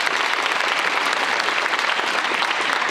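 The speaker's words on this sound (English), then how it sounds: "Let's give her a round of applause." Steady, dense applause fills a school gathering for a national signing day athlete, a crowd clapping continuously and loudly throughout with no speech over it.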